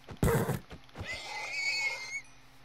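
A horse in Minecraft gives a loud, close neigh: a sharp breathy burst followed by a drawn-out whinny that wavers and trails off, heard alone without talk.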